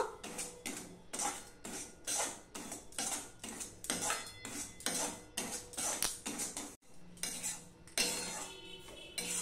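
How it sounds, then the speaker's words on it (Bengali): Dry semolina being roasted and stirred in a pan, a close, steady run of rhythmic metal scraping and clinking strokes with a brief pause near the end, no voices. "এবার আমি সুজিটা ভেজে নেব।"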